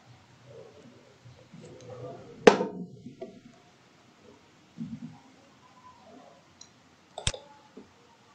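A computer mouse clicks the export button, a sharp click standing out near the middle among scattered faint taps and soft noises, then another click toward the end; no talk.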